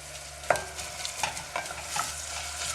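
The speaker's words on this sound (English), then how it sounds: "Stir them up in the olive oil." Onions brown in olive oil in a pot, with a soft continuous sizzle and a few light scraping stirs of a utensil, close and quiet.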